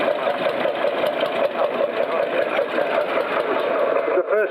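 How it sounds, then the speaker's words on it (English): An old Lanz Bulldog tractor engine runs with a rapid, steady mechanical chugging, close and continuous, before cutting briefly near the end. "Jeske driving his grandfather's tractor, and it's the oldest Bulldog here. You can tell by the shape and size of the engine"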